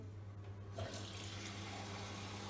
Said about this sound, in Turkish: Bu aşamada e, fırına göndermeden önce lütfen e, su doldurun.